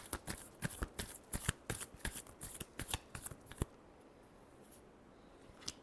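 A deck of tarot cards is shuffled by hand in a quick run of crisp, close riffling bursts lasting a few seconds before it falls quiet, followed by one last faint flick.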